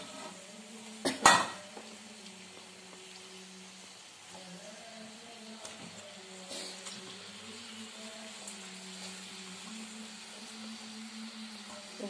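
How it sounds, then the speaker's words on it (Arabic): Chicken wings in a spiced marinade stirred in a cooking pot over low heat: a sharp metallic clank of a utensil against the pot early on, then faint scraping and gentle sizzling, quiet throughout. "هنقلب بقى كل ما نحط حبه كده نقلب"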